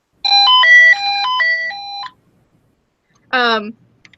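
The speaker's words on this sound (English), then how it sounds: "the alarm sounds really annoying, and it sounds like this" A Radio Shack intercom alarm sounds a loud electronic warble of alternating two-tone beeps for about two seconds, followed after a pause by a short, sharply descending electronic chirp.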